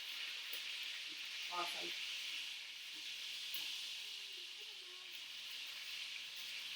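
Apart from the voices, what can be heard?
chicken thighs and onions sizzling in an iron pan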